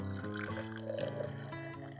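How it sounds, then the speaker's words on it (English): Hot water pouring into a Wacaco Pipamoka coffee maker at a campsite, a soft, steady trickle with rising pitch as the chamber fills, quiet and close. "So we heated up some water, and we're gonna pour it in here."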